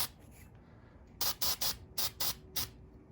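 Anti-seize spray being applied to the threads of a Jeep JL/JT tie rod during a steering upgrade, heard as six or seven short, sharp hissing bursts after a softer opening hiss, close to the microphone.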